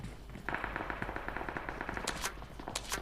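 Rapid automatic gunfire rattles in the mobile battle royale game PUBG Mobile, a steady fast burst of shots lasting over a second with a few louder crisp cracks afterward, fairly quiet overall.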